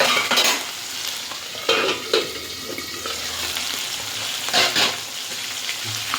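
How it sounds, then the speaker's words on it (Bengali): Pomfret fish pieces sizzle and crackle in hot oil in a wok, a loud steady frying hiss broken by stirring scrapes and sharper pops. "মাছটা পটপট করছে।"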